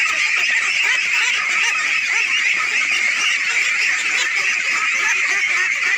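Ducks from a six-hundred-bird integrated farm on a rural pond keep up an unbroken, loud massed quacking, a thick flock chorus that stays level throughout without gaps.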